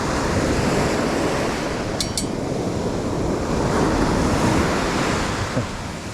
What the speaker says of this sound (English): Wave.